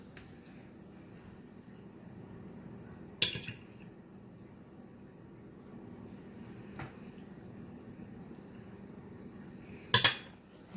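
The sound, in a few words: cutlery clinking while eating Jamaican oxtails with butter beans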